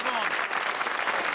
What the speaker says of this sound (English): MPs broke convention by breaking into applause